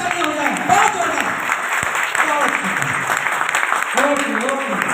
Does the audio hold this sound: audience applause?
yes